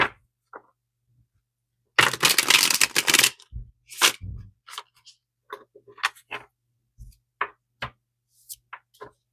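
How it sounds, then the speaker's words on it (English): A quick burst of papery riffling from a tarot deck being shuffled, lasting about a second, then scattered light taps and clicks, close and fairly quiet. "I'm just going to shuffle it a few times."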